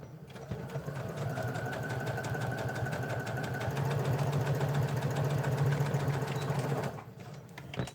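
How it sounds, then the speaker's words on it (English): A sewing machine top-stitches a leather wallet insert with a close, continuous, rapid mechanical whir and needle chatter for about seven seconds, then slows and stops. "flip it around and then do a top stitch"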